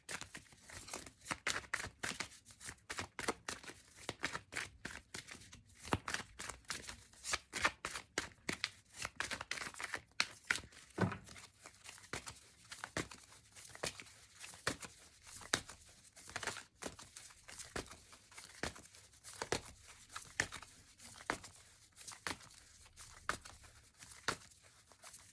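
Tarot cards are cut and shuffled during a French card reading, giving a long run of dense, rapid crinkling and riffling snaps that stay close and steady throughout, with no talking over them.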